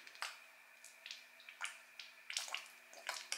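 Tap water splashes in short, uneven bursts while a plant pot is washed during the transplanting of succulent cuttings. The sound is quiet and close, with no talking.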